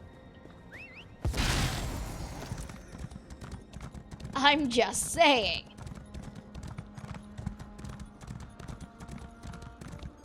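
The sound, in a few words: horse walking, hooves clip-clopping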